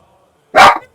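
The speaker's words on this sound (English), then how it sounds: "I have 2 pretty lively dogs, and every once in a while they'll go after the cat" A single short burst from one of two lively household dogs, most likely a bark, sounds loud and close for about half a second against an otherwise quiet room.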